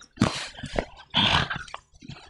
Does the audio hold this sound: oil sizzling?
no